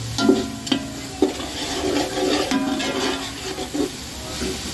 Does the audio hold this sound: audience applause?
no